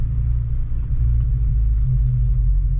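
A manual-transmission car engine gives a steady, loud low rumble as the driver gently applies the gas, the drone holding even and close with no talking over it.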